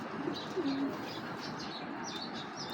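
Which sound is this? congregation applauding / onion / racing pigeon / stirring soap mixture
racing pigeon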